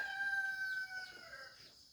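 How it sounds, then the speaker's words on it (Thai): A junglefowl crows once, close by, in a long drawn-out call that trails off toward the end, with no talking. "ไก่ป่าแท้นะครับ"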